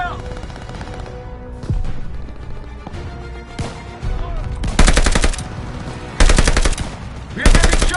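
Heavy gunfire in the World War II shooter Call of Duty: Vanguard, with sustained machine-gun bursts and loud, dense rattling volleys that swell in intensity toward the end, mixed with battle noise.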